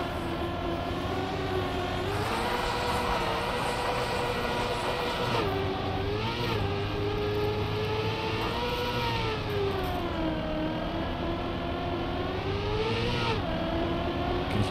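Race car engine in the Trackmania video game, loud and continuous, with shifting pitch as the car slows under heavy braking and then climbs back up through the gears.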